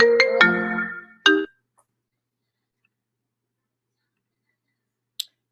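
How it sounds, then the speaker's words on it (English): A phone rings with a short burst of bright, tonal chimes, a brief pause, then one more chime before it cuts off into silence, with a single faint click near the end. "my phone rang"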